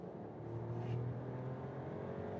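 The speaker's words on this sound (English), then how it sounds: "Here we have to go to 80 kilometers an hour, but we can accelerate out one more time" A Mercedes six-cylinder sedan accelerating hard from inside the cabin, a smooth engine drone that builds and rises in pitch, with road and wind noise underneath and no talking.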